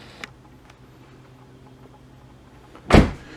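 An Infiniti M45 or M35 car door with a faulty check rod shuts with one solid, close thump after a few quiet seconds with a faint tick or two.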